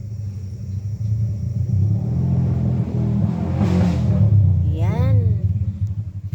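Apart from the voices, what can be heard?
motorcycles passing noisily on the road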